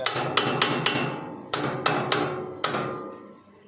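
A hammer taps a metal farm implement to tighten its chain, landing about eight sharp, ringing blows in an uneven rhythm close by, each followed by a brief metallic ring.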